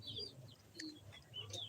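Young local chickens, several weeks old, giving faint scattered chirps and soft peeps in a quiet setting with a low background hum.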